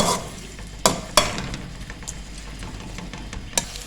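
Onion sautéing in a pan, a steady close sizzle broken by several sharp scraping knocks of a spoon stirring.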